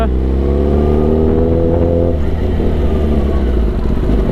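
A Kawasaki Venom motorcycle ridden at moderate pace, its engine a loud, steady close-up drone that shifts pitch mid-run with rumbling low tones and wind.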